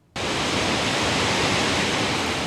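Tahquamenon Falls, a large waterfall in the Upper Peninsula, roars in a dense, steady wash of falling water. The roar starts abruptly and stays loud and unbroken, with no voices.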